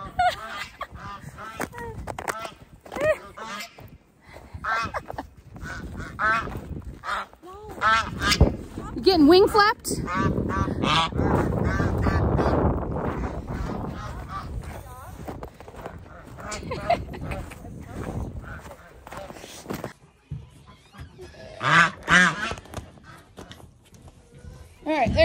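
Geese and ducks at a backyard coop honk and quack repeatedly through a busy stretch with some scuffling, mixed in with people talking nearby.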